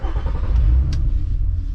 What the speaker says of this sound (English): Start it up, let it idle, and a couple revs.